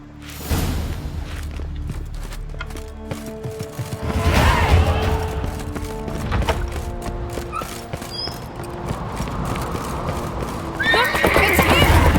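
A horse whinnies and its hooves clip-clop in a medieval video game, the steps steady and close against a bed of ambient game sound, with a brighter neigh near the start and another burst toward the end.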